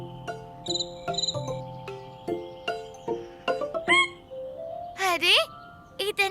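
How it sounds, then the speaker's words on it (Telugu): Cartoon crickets chirp in short repeated tonal bursts, a bright electronic-sounding trill rising and falling, with a voice mixed in among the sounds. "అరే కీచురాళ్ళు"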